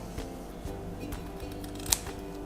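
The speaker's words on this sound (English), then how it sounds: "I'm going to just trim it a tiny bit" Scissors trimming a small piece of craft material for a handmade flower fairy, giving a few soft snips and rustles close by, with one sharper click near the end and no speech.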